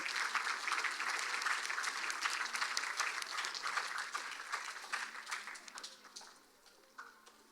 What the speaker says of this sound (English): Give them a warm round of applause as they do so